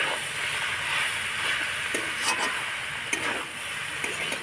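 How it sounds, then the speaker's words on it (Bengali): Shredded cabbage and boiled potato stir-fried with spices in a pan, a dense continuous sizzle and hiss with occasional soft scraping strokes, close up and without talk. "এবার সিদ্ধ করা আলুটা দিয়ে একটুখানি নাড়াচাড়া করে আমি ভালো করে কষিয়ে নেব বাঁধাকপি আর"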